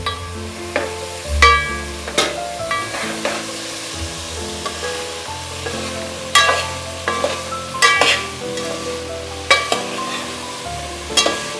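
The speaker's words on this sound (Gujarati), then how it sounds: "હવે આપણે આ ચણા નાખી દઈશું." Dried chickpeas, about 250 grams, tipped into a pot for Gujarati kadhi chana and stirred, giving repeated scraping and clattering spoon strokes over a soft, steady sizzle, close and fairly loud.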